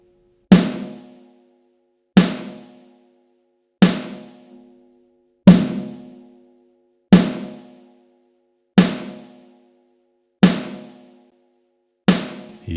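A fat snare drum sample is played before and after a Pultec EQ boost at 100 and 200 Hz. Eight isolated, evenly spaced hits each snap and decay into silence.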